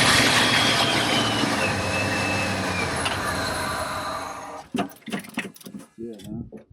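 A 1989 Ford F150 engine roars loud and steady for several seconds under a little throttle, then cuts off abruptly, followed by a few spoken words.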